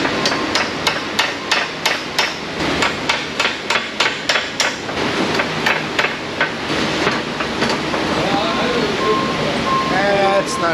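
Steady hammer strikes driving out a differential seal on an 03 Corvette, about twenty sharp metallic blows at an even rhythm close by, then grinding and clattering shop noise as the blows stop.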